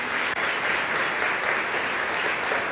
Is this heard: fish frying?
no